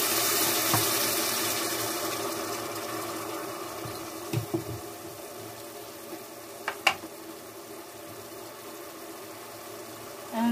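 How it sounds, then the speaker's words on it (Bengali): Water splashes into a hot pan of fried onions while cooking chicken, giving a soft sizzle and hiss with a few faint clinks and taps, fairly quiet throughout. "পেঁয়াজটা পুড়ে না যায় সেজন্য আমি একটু পানি দিলাম"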